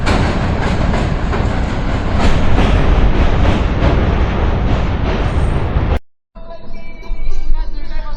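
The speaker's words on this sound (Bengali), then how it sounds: "ট্রেন চলে গেল ব্রিজের উপর দিয়ে" A train rumbles loudly and steadily across the 112-year-old British-built Hardinge Bridge. The heavy roar holds for about six seconds, then cuts off and gives way to quieter mixed sounds.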